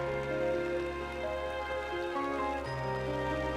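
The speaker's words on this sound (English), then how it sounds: "The pouring rain shows no signs of dying down" Pouring rain in the visual novel game One hisses steadily and evenly, with soft background music tones sustained underneath.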